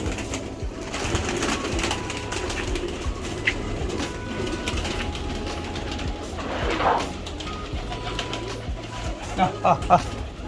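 Pigeons coo in low, repeated throaty calls over a busy background murmur, with a brief flutter near the end.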